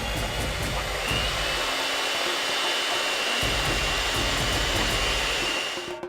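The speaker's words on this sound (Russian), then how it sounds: "Поэтому мы решили использовать вот такие миксеры, которые взбивают все сами." Electric hand mixers whip egg whites in several bowls for a giant milk-slice dessert, giving a steady loud whirring drone that runs through the whole stretch, with a brief dip in the low rumble partway.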